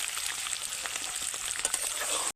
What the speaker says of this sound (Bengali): তার জন্য ডিমগুলোকে এইরকমভাবে লাল লাল করে ভাজতে হবে।